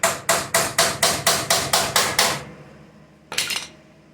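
A hammer taps metal on a Fox-body Mustang GT during MIG plug welding: about nine quick, evenly spaced, close, sharp metallic strikes, a pause, then one more tap.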